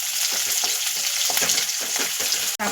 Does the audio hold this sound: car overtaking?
no